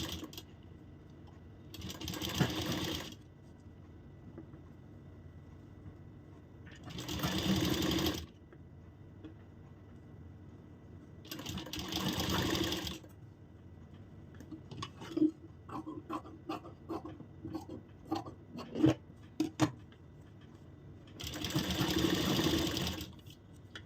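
A sewing machine stitches folded fabric for a katori blouse in repeated bursts of a few seconds each. The bursts are separated by quieter handling and clicking as the cloth is adjusted, with no talking.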